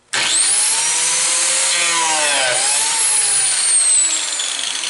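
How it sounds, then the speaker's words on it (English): A biscuit joiner cuts a slot into wood for a crack repair, giving a loud, steady, harsh cutting roar that holds for several seconds with no voices. "Lock the spindle lock, and we're set to go for the first biscuit."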